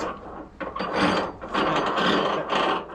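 A ratchet clicks rapidly and loudly at close range while tightening a brake component on a $500 AE101 Toyota Corolla endurance race car, in two or three dense bursts.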